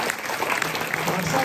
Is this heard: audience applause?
yes